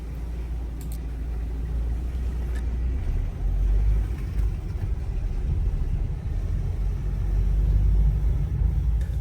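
A Volkswagen T5.1 van, about two metres tall, rolls into the short-stay car park at Gatwick North Terminal. Heard from inside the cab, its engine gives a steady low rumble and road drone with no talk.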